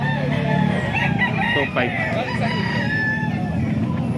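A ten-month-old Sweater gamefowl rooster crows once up close, a strained rising call in the middle, with people talking over it and other birds around.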